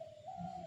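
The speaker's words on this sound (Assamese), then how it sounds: "নেচাৰেল গাঁও মানে চৰাই আৱাজ কৰে চৰাই চিঞৰে" Short, faint bird call in a rural village at dawn, a soft pigeon-like coo with a steady tonal note over quiet background.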